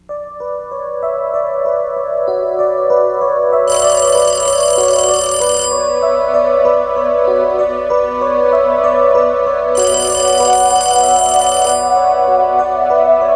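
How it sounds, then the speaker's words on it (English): A telephone rings twice with a loud, bright electronic bell to signal a computer-generated phone call, each ring lasting about two seconds over a steady, constant tone. "At random times, computer-generated phone calls summon him to this machine."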